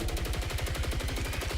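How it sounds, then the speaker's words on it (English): A fully automatic rifle in the game Saros fires at a steady set rate, a close, loud, evenly spaced stream of rapid shots with no pause. "A fully automatic rifle, which will fire at a set rate"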